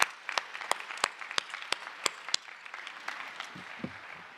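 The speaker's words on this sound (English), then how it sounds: "let's give a round of applause to everyone here who's here to wish you and cheer you on" Applause at a Georgia Tech College of Computing master's commencement in cool spring weather, a crowd of family and guests clapping in a steady scatter of sharp claps that thins toward the end, with faint low murmuring near the close.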